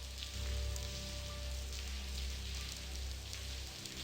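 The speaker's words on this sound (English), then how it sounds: "All this rain." Steady rain patters on surfaces in The Blackwell Convergence, a soft continuous wash that stays even from start to finish with no talking.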